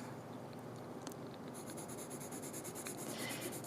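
Pencil drawing on paper with a Mitsubishi pencil: faint, close, continuous scratchy rubbing strokes with light taps, quiet against a soft background hiss.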